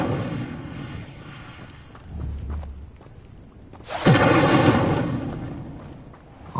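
A fiery whooshing burst from the Incendio fire spell in Hogwarts Legacy, flaring loudly midway through after a stretch of rumbling game ambience and thuds.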